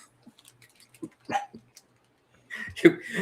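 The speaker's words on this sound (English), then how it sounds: "You hear my doggy?" A pet dog barks indoors during a live interview: a few scattered soft yips and short barks, then a louder burst near the end, with faint speech nearby.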